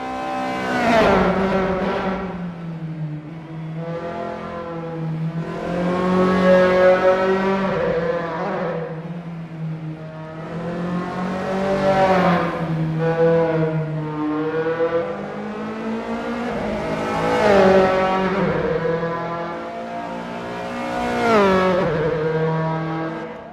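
Dallara F312 open-wheel race cars lapping Rattlesnake Point in Assetto Corsa, a loud high-revving engine note that climbs and falls repeatedly through gear changes and corners, continuous and close with no talk.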